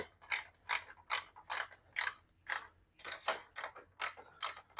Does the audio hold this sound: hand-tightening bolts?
yes